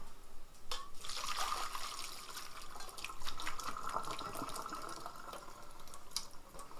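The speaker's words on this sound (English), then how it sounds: "let's take care of draining off our noodles because it's been enough time." Water from draining a pot of cooked lasagna noodles pours and splashes steadily into a sink, a continuous close rushing trickle with no talking.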